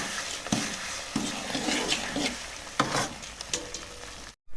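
Semolina is stirred as it cooks in sugar syrup for sweet suji halwa. A spoon scrapes through the thick mixture in repeated sizzling strokes, with light pan clinks.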